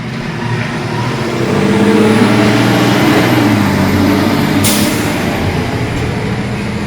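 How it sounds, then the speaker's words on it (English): A heavy truck rumbles past nearby, a steady low roar that swells toward the middle and slowly fades while still audible. "this truck might be loud"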